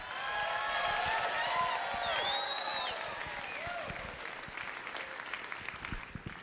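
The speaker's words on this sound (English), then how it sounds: "can you guys cheer? Let's just hear it." Audience at a post-inaugural comedy show cheers and applauds steadily, a dense wash of clapping with whoops and shouts rising over it, holding loud throughout and thinning slightly toward the end.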